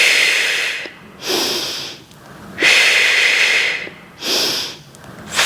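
Deep, audible breaths during a reformer Pilates full-body workout, three long airy exhalations and inhalations with brief pauses between, close and fairly loud, with no talking.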